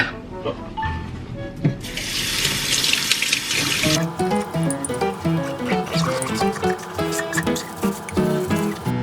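Tap water runs into a kitchen sink while dishes are washed, a steady loud rush that later gives way to clinking and splashing as items are handled.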